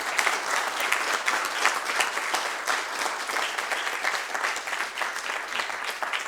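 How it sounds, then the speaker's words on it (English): Steady, dense applause from a conference audience at a Baltic security forum in Stockholm, sustained and even throughout with no talk over it. "I think an applaud will do, right?"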